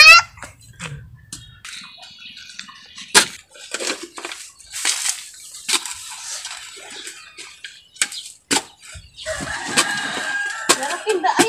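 Chickens cluck and a rooster crows on a farm, scattered calls mixed with clatter and background noise, with a voice speaking at times.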